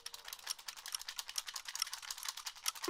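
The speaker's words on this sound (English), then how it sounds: "Shake the cap tube for 5 seconds." A capped 23andMe saliva collection tube shaken rapidly by hand produces a fast, even, faint rattling that runs for about three seconds and ends in a sudden thump.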